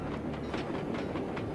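A train in the Sly 2 video game rumbles along with a steady clickety-clack rhythm of wheels over track joints, heard moderately loud and alone.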